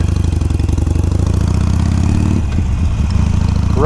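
A motorcycle engine chugs loudly and steadily up close while riding a rippled dirt backroad on Merritt Island, its pulsing mid-pitched rumble continuous and shaken by uneven bumps near the end.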